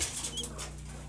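Pigeons flap their wings close by with a soft coo mixed in, one brief, busy burst of fluttering lasting about a second.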